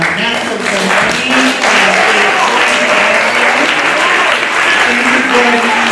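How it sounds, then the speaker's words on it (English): Loud, dense applause from a live audience at a New York African chorus ensemble performance, filling the whole span evenly with voices calling and cheering underneath. "Let's give a huge round of applause for our national"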